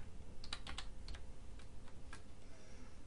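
Someone types on a Windows 8.1 computer keyboard, a quiet burst of several quick keystrokes followed by a few scattered taps.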